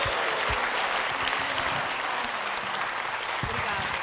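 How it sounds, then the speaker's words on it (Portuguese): An audience at a Brazilian music performance applauds warmly, dense sustained clapping that stays steady throughout, with a few stray voices mixed into the crowd. "E eu gostaria que vocês aplaudissem com carinho a minha amiga Yaya Yara."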